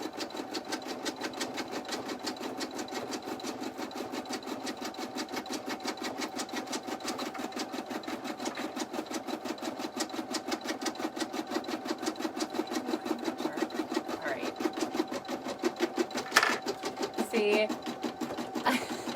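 An embroidery machine stitches a lined in-the-hoop bag rapidly in a steady, fast mechanical rhythm, close and continuous, with a few brief thumps and rattles near the end.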